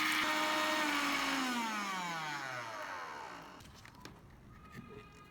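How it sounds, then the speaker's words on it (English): An electric blender grinds dried ginger slices into fine powder. Its motor whine starts loud and close, then slowly drops in pitch as it runs down and fades toward quiet, with no talking. "Put them into a blender. Turn on the machine and grind them into a fine powder."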